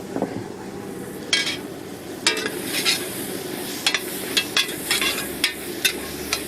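Spices such as coriander, cinnamon and turmeric go into a hot frying pan, with a soft steady sizzle and a few sharp clinks and scrapes of a utensil against the pan.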